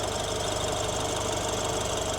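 A car engine idles steadily during an air-conditioning regas, a close, even mechanical hum with a fast regular knock-like pulse and faint high whine, heard alone.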